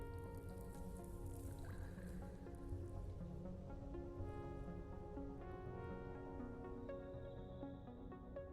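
Steady rainfall in a roleplay video game, a soft continuous patter of drops heard faintly beneath sustained musical tones, with no voices.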